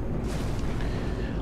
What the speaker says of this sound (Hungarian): Látjátok, hogy záporoznak be a lövések